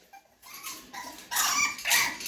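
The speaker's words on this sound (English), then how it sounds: "So there goes the puppies right there." Mini English Bulldog puppies, about five weeks old, whimper and yip softly at feeding time in a drop-front cage, with short bursts rising in loudness, close by and without speech.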